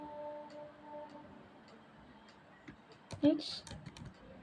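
Keys clatter on a computer keyboard during Python coding, with scattered soft clicks and a brief burst of louder taps near the end, set under quiet speech.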